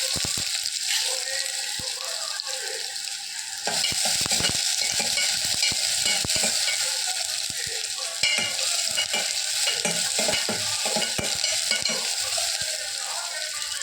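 Chopped big onion with curry leaves sizzling in hot oil, a loud continuous crackling fry that intensifies midway, with frequent stirring scrapes against the pan.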